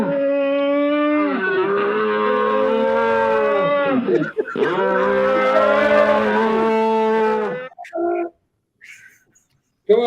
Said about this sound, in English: It's the demonic cows.